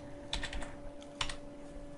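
Typing on a computer keyboard, a few quick close key clicks in two small bursts over a steady background hum, no voices.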